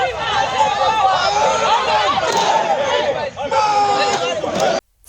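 Crowd of protesters facing gendarmes in a riot-control simulation: loud, continuous shouting and babble from many voices nearby, with several brief dips before it cuts off.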